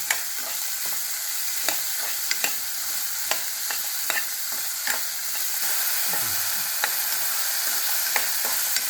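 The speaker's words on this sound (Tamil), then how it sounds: "இந்த எண்ணெயிலே நல்லா வதக்கிடணும்" Turkey berries (sundakkai) being sautéed in hot oil give a steady sizzle, with repeated scrapes and clicks of a spoon stirring the pan up close and no talking.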